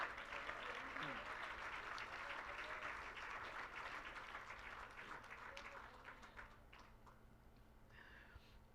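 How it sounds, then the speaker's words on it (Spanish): A church congregation applauds during a sermon, giving a round of clapping to Jesus. The clapping is faint and steady, heard at a distance, and slowly fades away. "¿Por qué no le da un aplauso al Señor Jesús?"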